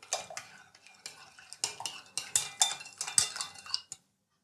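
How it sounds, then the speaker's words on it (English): A siphon rod stirs dextrose dissolved in boiling water for bottling pale ale, giving a quick series of close clinks and scrapes against the vessel that grow louder, then stop abruptly. "We'll just stir it with the siphon rod itself"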